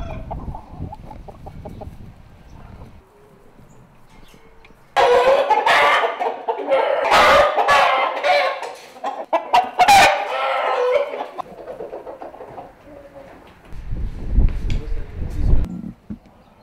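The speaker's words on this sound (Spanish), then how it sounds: "secuestro de gallos de riña de todo porte y estado en que se encuentren" Fighting roosters kept at a breeding farm during a police raid crow loudly and cluck in overlapping bursts, with someone speaking at the start and more low sounds near the end.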